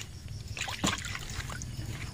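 Diesel fuel is splashed over a truck engine caked with jelly-like oil sludge, a faint wet trickling and sloshing with one brief louder splash over a low background rumble.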